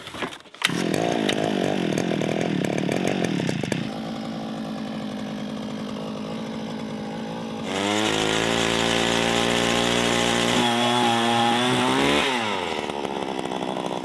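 A gas-powered auger drills a hole through the ice of a frozen river, a close, steady buzzing engine whine that drops to a lower, quieter pitch partway through and then rises again near the end.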